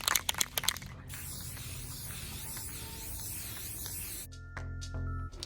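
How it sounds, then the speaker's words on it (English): Clear enamel spray can hissing steadily over vinyl decals on painted wood, a loud continuous spray of about three seconds after a few short clicks and bursts, followed by some handling noise. "I'm going to go ahead and spray a clear enamel over the top just to kind of make sure my vinyls stay down"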